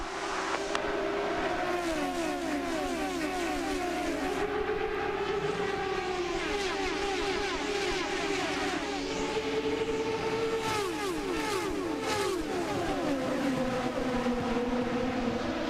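IndyCar race cars at the 2007 XM Satellite 300 roar together on a green-flag restart, a dense, continuous engine wail with rising and falling pitch sweeps as the field accelerates and passes, loud throughout with no talk.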